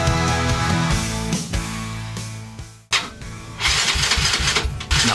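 A motorcycle engine cranks and sputters, cuts out briefly, then catches and runs with a rough, loud rattle close by.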